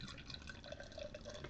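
Wells Bombardier bitter poured into a chilled pint glass: a steady, quiet liquid trickle and glug with fizzing, continuous and close, no talking.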